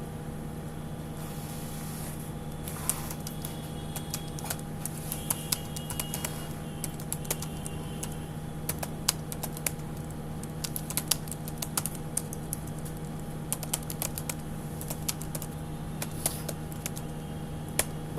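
Steady, rapid clatter of computer keyboard keys while someone types a message in MS-DOS, close and continuous throughout with no talking, over a faint constant hum.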